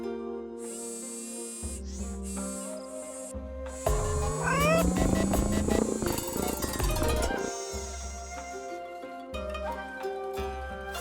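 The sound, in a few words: robotic cat meowing in Nancy Drew video game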